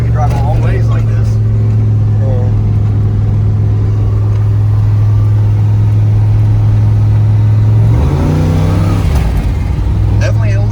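A modified car with a full 4-inch exhaust drives along, its loud, deep engine drone holding steady and then shifting pitch as it changes speed, heard close up from inside with voices talking over it.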